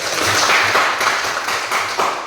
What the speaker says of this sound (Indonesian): Tepuk tangan buat kawan kalian